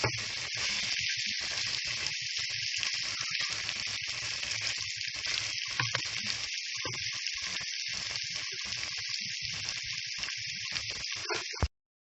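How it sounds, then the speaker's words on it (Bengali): Hilsa fish roe sautés in a pan with onions, a steady bright sizzle that runs unbroken and close for about twelve seconds before cutting off abruptly. "ডিমগুলোকে ভালোভাবে কষিয়ে নিতেছি"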